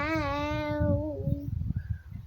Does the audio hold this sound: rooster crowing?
no